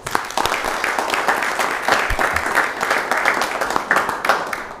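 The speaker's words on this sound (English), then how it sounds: "And I think they deserve a round of applause" A meeting audience claps for municipal clerks at a township committee session, a steady, dense round of applause lasting several seconds at moderate distance.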